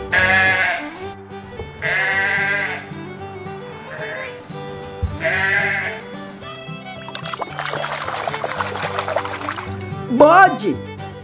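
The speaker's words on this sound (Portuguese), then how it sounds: "Bode." A goat bleating sound effect plays over cheerful background music, three loud, wavering bleats spaced a couple of seconds apart, followed by a stretch of music and splashy noise.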